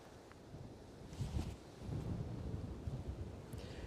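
Strong gusty wind at Edinburgh Airport during a 40 mph gust day, rumbling and buffeting the microphone in surges, fairly faint overall with no talk.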